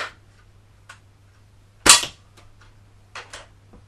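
An air rifle pellet striking steel plate greaves: one sharp, loud crack stands out alone, with a few faint ticks and clicks before and after it.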